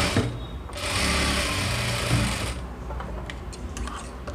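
A sewing machine stitching fabric for a three-year-old's baby frock hums in a loud, steady, close run for a few seconds, then slows and quiets into lighter mechanical clicking.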